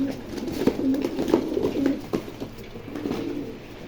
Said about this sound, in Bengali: বড় রানিং কবুতর